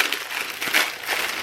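Plastic ramen noodle package being torn open for a budget one-pot meal, a brief close crinkling and rustling of thin wrapper with a louder crackle midway, no talking.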